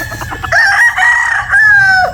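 A Sweater Gilmore gamefowl rooster crows twice, two loud, close, drawn-out calls separated by a short pause, with no voices over them.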